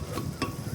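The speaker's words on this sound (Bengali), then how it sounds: "3-4 মিনিট মতো হাই ফ্লেমে কষাতে হবে যাতে সবগুলো ভালো মতো মিক্স হয়ে যায়।" A mixture is stirred in a pan over a high flame: two quick scraping strokes of a spoon rise over a soft, steady background of cooking noise.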